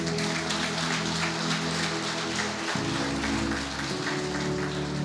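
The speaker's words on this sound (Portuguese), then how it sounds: "vamos aplaudir Jesus" A church congregation applauds in a dense, steady wash of clapping that lasts throughout, with low sustained musical tones droning underneath.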